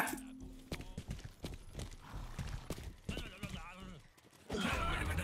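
Rhythmic hoofbeats clop steadily in a video game over background sound, with a horse's whinny and someone talking partway through.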